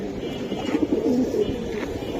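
Silver Giribaz pigeons coo close by, a few rolling low calls over a quiet background in a short burst.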